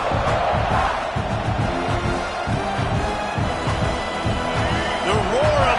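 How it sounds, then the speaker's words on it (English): Stadium crowd at a college football game roaring loudly and continuously, a dense wall of cheering throughout. "The roar of the crowd trying to fuel this defense to keep them pinned in their own end."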